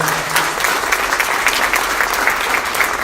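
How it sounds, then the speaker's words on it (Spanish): Congregation applauding during a Spanish-language church sermon on the resurrection, a dense, steady wash of many hands clapping at full volume with no pause. "Por favor, dale un aplauso al Rey de Reyes"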